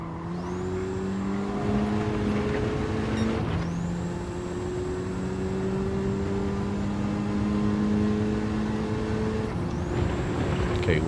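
A race car engine in Gran Turismo 7 howls steadily during a solo time-trial lap, its pitch climbing through each gear before dropping at the shifts, loud and continuous with no talk.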